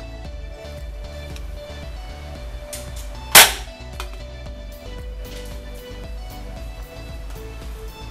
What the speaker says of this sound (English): that was only one shot, and that was really loud